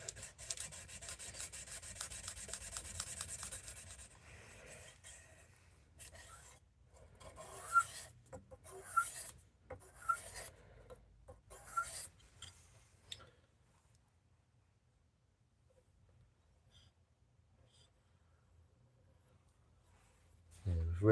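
A blade edge is sharpened to raise a burr, giving bursts of rasping, rubbing strokes that start dense and loud, then break into separate strokes and fade to near silence near the end.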